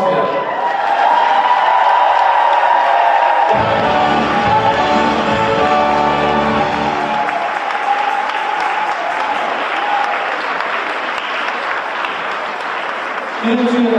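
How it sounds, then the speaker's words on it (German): A large carnival session crowd applauds loudly and steadily in a packed hall, dense continuous clapping that swells at times, with a voice and some music-like tones mixed in underneath. "Ich finde, das ist ein riesen Applaus für dich."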